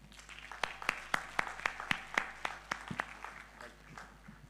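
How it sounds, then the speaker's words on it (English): Sparse, quiet applause from an audience at a career guidance talk for engineering students: about a dozen separate claps in an uneven rhythm, faint and distant over a low hum. "Can we give him a round of applause, please?"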